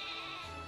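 A Wooloo, the woolly sheep Pokémon in Pokémon Shield, lets out a single brief, soft bleat, with no one talking over it.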